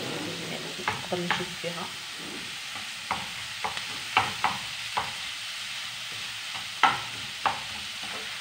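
Minced kefta sizzles steadily in a frying pan while a utensil scrapes and knocks against the pan in scattered strokes as the meat is spread and stirred. A voice speaks briefly over it.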